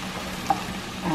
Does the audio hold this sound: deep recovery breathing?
no